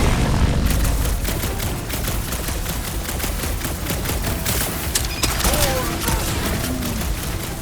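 Rapid sustained gunfire from Marvel's Guardians of the Galaxy on PS5 as the player fires at a big robot, dense automatic bursts with a few heavier impacts running throughout, layered under game effects.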